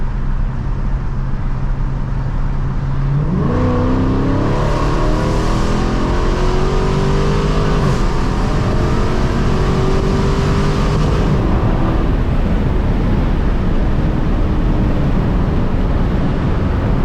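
A Dodge SRT 392 with a straight-piped Borla ATAK exhaust and small rear mufflers, idling, then revving hard in a long, loud, close climbing roar before settling back to a rumbling drone.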